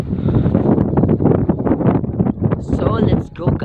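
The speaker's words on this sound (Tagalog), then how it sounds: "Malakas ang hangin dito." Strong wind gusts buffet the microphone at a classic motorcycle nature campsite among tents, loud and close, rumbling continuously under someone talking.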